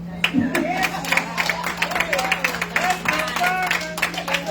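An audience at a grand opening event claps steadily, a dense patter of hands held at a moderate distance, while a voice speaks over it at the start.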